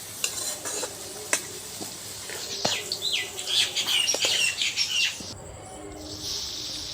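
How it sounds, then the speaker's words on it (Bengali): Potatoes frying in oil in a wok, with repeated scraping clinks from stirring over a steady sizzle, a busier burst of stirring in the middle, then a calmer hiss. Faint birdsong sounds in the background. "এবার আলুগুলো ভেজে নেব।"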